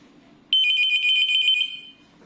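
A wall or desk mountable wired telephone rings at its high volume setting, a loud steady electronic trill starting abruptly and lasting about a second before fading into quiet room noise.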